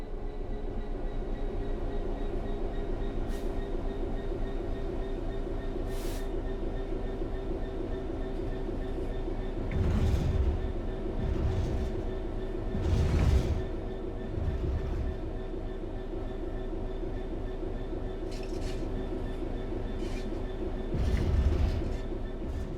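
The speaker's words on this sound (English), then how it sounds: "The train will then coast on level ground, and the train will only slow down very gradually." A locomotive coasts on level ground with the throttle at zero in Train Sim World 4, a steady low rumble of rolling wheels with rhythmic rail clicks and occasional louder thumps, no talk.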